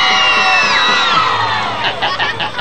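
Crowd at a 1999 men's modelling show cheering and whooping loudly, with shrill shouts and claps bursting out near the end.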